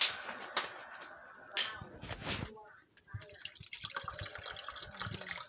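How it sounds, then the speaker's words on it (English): Water pours into a pot of homemade marinara tomato sauce made with diced tomatoes, giving a few splashing, gushing bursts in the first seconds, followed by quieter kitchen clatter. "Let's add in this water."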